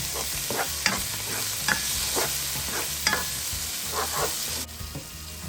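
Squash and string beans stir-fry in a hot pan, a steady sizzle broken by regular scraping stirs of the utensil, about one every second, close and clear with no talk.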